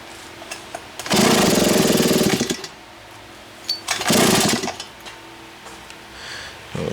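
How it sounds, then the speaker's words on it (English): A small engine with a clutch revs up twice under throttle, a loud roaring burst lasting about a second and a half, then a shorter rev, separated by a quieter idle. "But we could run the motor for a little bit. Give her a little gas."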